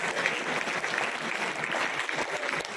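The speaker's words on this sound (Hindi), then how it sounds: "जोरदार तालियों से" An audience at a school Women's Day celebration breaks into steady applause, a dense, even wash of many hands clapping at a distance, moderately loud and continuous throughout with no talking over it.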